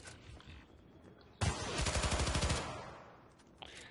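Rapid automatic gunfire in the Syndicate video game: a sudden, loud burst of closely spaced shots lasting about a second, then fading into background game noise.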